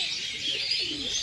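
Madras pigeons, a paired male and female for sale, give soft cooing and chirpy calls close by over a steady hiss, with no talk.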